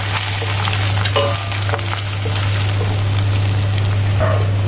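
Grated coconut frying in oil with a white cumin and chili tempering, a steady close sizzle with occasional brief stirring scrapes and clinks, no voices.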